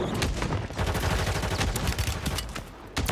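Video game gunfire in a solo shooter match, rapid bursts of automatic shots close by, dense and continuous with short breaks, loud over background game noise.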